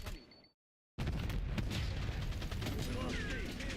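Frag grenade blast and gunfire in a Black Ops 6 match: after a brief silence, a sudden loud burst gives way to dense, continuous crackling shots and booms that fill the rest of the moment.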